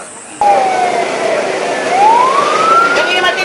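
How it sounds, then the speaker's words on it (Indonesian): A fire engine siren, sent out to a house and boarding-room fire, starts abruptly and sweeps down, then rises again in a loud wailing tone over steady traffic rumble nearby. "Petugas menurunkan dua mobil damkar dan api padam setelah setengah jam kemudian."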